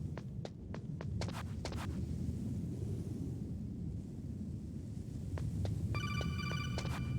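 A phone rings in a Metal Gear Solid video game, repeated short electronic trills in bursts over a steady low hum.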